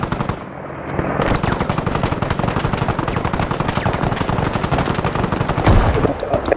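Rapid automatic gunfire from a video game weapon shooting at a hostile target, a dense continuous burst of loud shots over several seconds with a heavier blast near the end.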